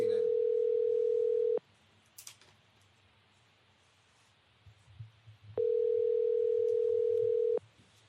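An outgoing call rings: two long, steady ringback tones, each about two seconds, separated by a pause with faint background clicks, clear and fairly loud.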